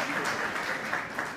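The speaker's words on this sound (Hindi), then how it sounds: "एक बार जोरदार तालियां" A crowd at a star-studded launch event claps in a brief, steady burst of applause, moderately loud, with voices mixed in underneath.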